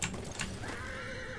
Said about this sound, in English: I got a horse though, so it don't matter. I'm on a horse